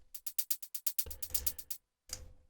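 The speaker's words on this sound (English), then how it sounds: "There's a rolling hi-hat loop." A quick, rolling loop of crisp closed hi-hat ticks, evenly spaced and bright, with a low thump joining halfway before a brief gap.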